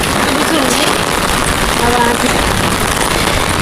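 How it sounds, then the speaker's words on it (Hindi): Dense, steady hiss of heavy rain pouring down on a rooftop in Delhi, loud and unbroken, with a faint voice in the background. "कितनी तेज फिर से बारिश स्टार्ट हो गई है।"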